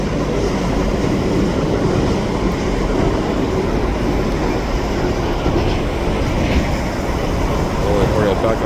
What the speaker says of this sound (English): Now I know why they'll need 4 diesels for this train.